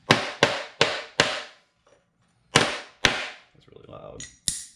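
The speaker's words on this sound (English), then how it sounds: "Now we just hammer." Sharp metallic hammer blows flattening copper pipe land in quick groups of four and two, loud and close, with a short pause and some scraping between.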